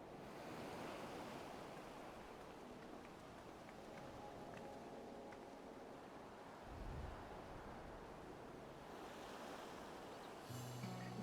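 Ocean waves roll in a seaside area of Final Fantasy XIV Dawntrail. The surf makes a soft, steady wash with a gentle swell partway through, faint and continuous, with no voices.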